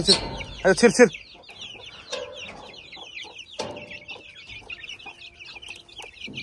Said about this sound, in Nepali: ल यो चाहिँ हाम्रो लोकल कुखुरा हो